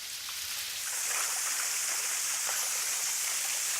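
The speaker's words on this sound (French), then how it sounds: "Une petite cascade." A small artificial garden waterfall, fed by a hidden garden hose behind rocks, at a house in Calcatoggio, Corsica, giving a steady, close rush of splashing water that swells slightly after the first second.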